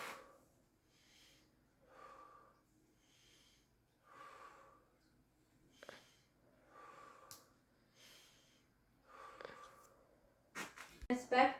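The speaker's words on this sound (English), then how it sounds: "Take a deep breath." Patient's deep breaths during lung auscultation, heard as a regular series of about five soft inhale-exhale cycles spaced roughly two seconds apart, quiet and close, ending with louder rustling handling noise.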